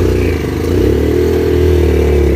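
A motorcycle ridden by a learner growls close by in a loud, steady engine drone with a slight rise in revs, with no voices.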